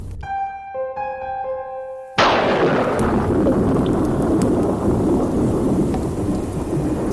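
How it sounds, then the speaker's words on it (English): A thunderstorm breaks in with a loud, sudden thunder crash after a few soft, sustained musical notes. Heavy, dense rain and rumbling follow and stay steady and close to the end, with no talking. "Storm seems to be getting stronger."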